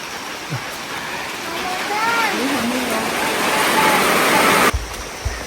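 Steady rain pours over a village in Ecuador, a dense, even hiss that swells slightly partway through and cuts off abruptly near the end, with faint voices beneath it.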